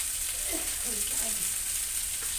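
Pieces of small rohu fish fry in hot oil with a constant near hiss. Faint low clinks and shuffles sit underneath.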